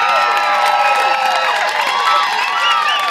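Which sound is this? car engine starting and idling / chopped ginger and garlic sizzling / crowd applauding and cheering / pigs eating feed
crowd applauding and cheering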